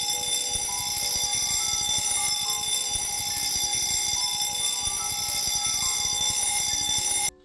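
A fire alarm bell set off from a fire alarm receiver rings loudly and continuously for about seven seconds with a rapid metallic striking, then cuts off abruptly.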